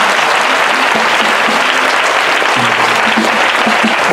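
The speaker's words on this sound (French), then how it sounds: "Applaudissements au nom de Jésus." A church congregation breaks into loud, sustained applause during a prophet's service, dense clapping close and constant, with faint tonal hums from music or voices running underneath.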